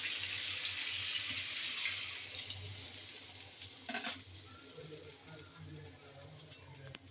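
Water poured into braising beef in a pot makes a rushing, faucet-like hiss for the first couple of seconds, then fades into quieter bubbling with a brief clatter of a utensil.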